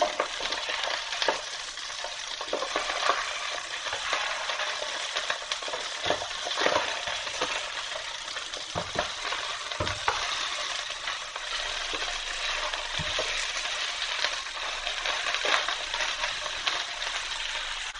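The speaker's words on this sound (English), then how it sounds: "so now I'm gonna go ahead and flip my salmon" Teriyaki salmon fillets frying in a pan, a steady close hiss and crackle of sizzling oil lasting throughout, broken by a few clacks and scrapes as the pieces are flipped, with no one talking.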